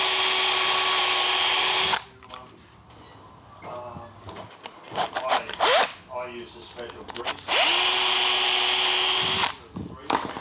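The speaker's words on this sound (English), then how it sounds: "So I'm going to drill these at a slight angle," A power drill bores holes at a slight angle into wood for a small condiment caddy in a workshop, two loud sustained whirring bursts at start and end with quieter handling and movement between.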